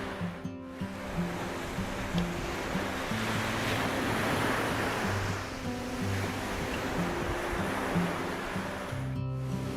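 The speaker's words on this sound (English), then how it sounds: "Perfect waves roll in from the Indian Ocean" Steady roar of Indian Ocean surf at a Maldives surf break, waves washing in continuously, a broad rushing wash that stays even throughout, with some wind noise against the microphone.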